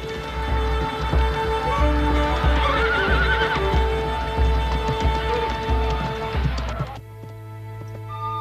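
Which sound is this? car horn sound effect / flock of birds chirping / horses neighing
horses neighing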